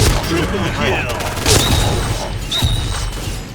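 Grenade blasts in the shooter game Point Blank: two sharp, broadband explosions about a second apart, loud and close, over constant game noise with a voice talking.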